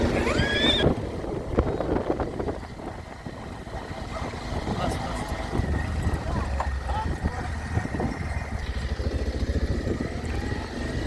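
Three horses, two of them mares (a pale one and a black one), move across an open field during a gait event, with intermittent hoof clip-clops against steady wind and murmuring voices nearby.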